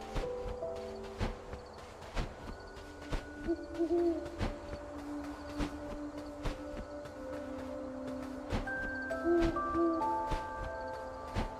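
An owl hoots repeatedly in the video game Death's Door, gliding, tonal calls standing out over steady game ambience and music with sharp clicks throughout, moderately loud and close.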